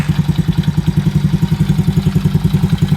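A Chinese 110cc ATV engine idles just after being repaired for a no-spark fault, a close, loud, even putter of rapid regular pulses with a light mechanical clatter.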